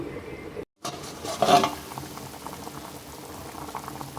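Country chicken curry bubbling in a pot over medium flame, a steady low gurgling boil, close, with a brief gap and a short louder burst of bubbling.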